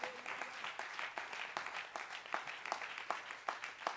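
Church congregation applauding in praise during a service, a sustained wash of many hands clapping with rhythmic, evenly spaced accents, fairly close and continuous throughout.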